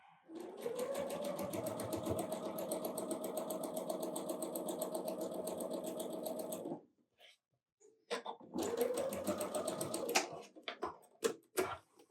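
A sewing machine stitching quilt pieces for a Christmas snowman block, running in a long steady whir for about seven seconds, then stopping and starting in a shorter burst followed by a few clicks, close and with no talking.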